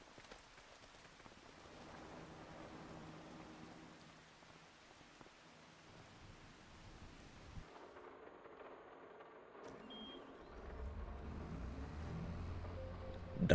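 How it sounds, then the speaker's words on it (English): Steady rain hisses throughout in a cattle farming game, shifting in character partway through, with a low rumble building toward the end; no voices. "It's raining."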